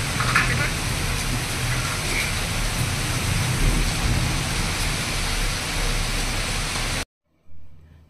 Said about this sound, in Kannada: ಮಿಂಚು ಗುಡುಗು ಎಲ್ಲ ಜೋರಾಗಿದೆ ಅಂತಾನೆ ಹೇಳ್ಬೋದು.